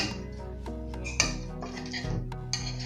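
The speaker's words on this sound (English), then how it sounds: "I'm just going to rake these potatoes into this same pot that I made the stock in" Potatoes raked into a metal stock pot used for chicken stock and potato soup, giving clinking metal scrapes and knocks over a steady low background hum, close and fairly quiet.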